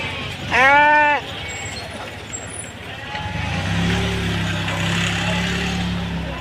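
Lambs and sheep bleat at a busy rural livestock market, with one loud near bleat, then a low continuous drone of traffic and crowd noise in which fainter animal calls and a vehicle rumble blend.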